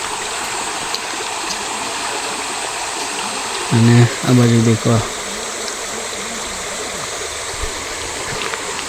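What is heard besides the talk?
flowing water in a forest stream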